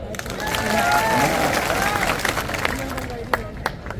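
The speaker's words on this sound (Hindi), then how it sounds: "तो ताली बजाओ।" A crowd at a Congress party political rally breaks into applause, dense clapping spread across the audience, steady and fairly loud, then thinning out with a few scattered claps.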